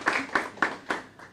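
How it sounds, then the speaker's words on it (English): Audience at a Milwaukee Public Schools event giving a short round of applause, heard as four or five distinct, fairly loud claps spaced evenly and fading, no speech over them. "Give them a round of applause."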